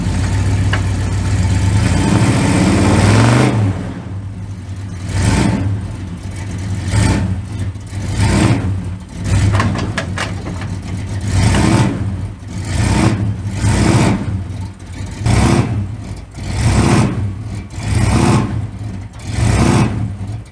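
A truck engine revs repeatedly while trying to pull out an old IH Loadstar stuck with a tire sunk in a hole, loud rhythmic surges of power rising and falling about once a second after an opening idle.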